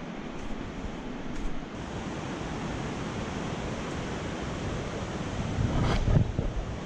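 The Pailón del Diablo waterfall in Baños, Ecuador roars as a loud, unbroken wash of falling water close by, mixed with wind buffeting the microphone and no speech.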